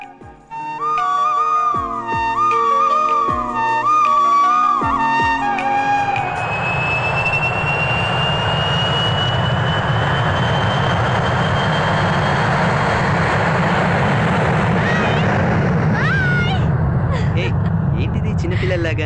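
An airplane roars loudly overhead, rising into a broad, sustained engine rumble and whine that drowns out earlier music and lingers for many seconds.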